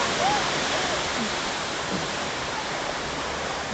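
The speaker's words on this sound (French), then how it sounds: "il y a des cascades qu'il n'y avait pas au début de l'année." Water cascades on a theme park ride at Parc Astérix rush in a steady, dense wash of noise throughout, with faint voices now and then.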